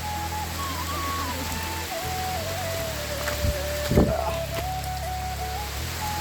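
Heavy rain pours outdoors in a village, a steady loud wash of drops with a faint tonal hum running through it and a couple of sharper splashes.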